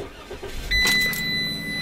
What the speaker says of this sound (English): let me just turn the car on for you guys